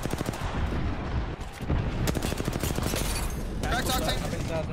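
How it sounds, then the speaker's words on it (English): Rapid bursts of automatic gunfire in a ranked multiplayer shooter match, loud and continuous with dense repeated shots, while players talk over the action. "Taking fire."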